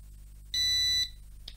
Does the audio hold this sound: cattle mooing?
no